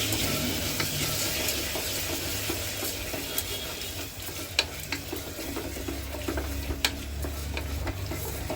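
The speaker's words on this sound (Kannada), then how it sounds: "ಸ್ವಲ್ಪ ಟೊಮೊಟೊ ಸಾಫ್ಟಾಗಿ ಬೇಯೋವರೆಗೂ ಹುರ್ಕೋಬೇಕು" Tomato masala frying in oil is stirred in a pan for a mutton gravy, a steady soft sizzle with scattered light clicks and scrapes from the spoon.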